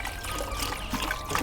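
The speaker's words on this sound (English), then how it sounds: "I am gonna put water" Water poured into the coolant reservoir of an Audi S5, a steady continuous trickle and splash, fairly close and even in level, with no talk over it.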